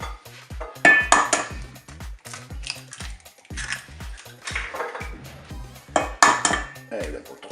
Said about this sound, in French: Allez, on va casser les œufs.